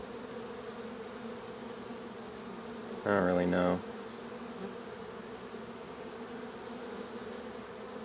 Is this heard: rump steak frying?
no